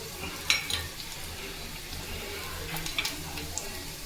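Oil sizzles steadily as chicken 65 fries, with a few sharp pops and crackles, fairly close, with light kitchen clatter around it.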